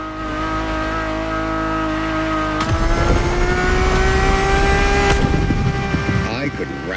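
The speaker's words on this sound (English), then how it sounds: "And the car's voice sounds even better from inside." A Ferrari supercar engine in The Crew Motorfest racing game drones at a steady pitch, then revs hard and climbs, roaring loudly with a rough, gritty edge and another surge near the end, heard from inside the car.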